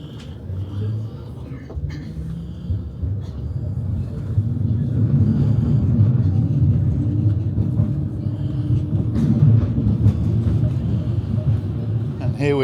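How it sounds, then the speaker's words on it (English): A tram rolls through Linz, Austria, with a steady low rumble that swells midway and stays close and fairly loud. A person talks over it. "And here's our tram"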